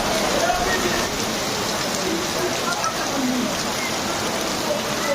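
Heavy rain falling at midnight during a Durga Puja festival night, a dense, steady roar of drops hitting surfaces, loud and unbroken throughout.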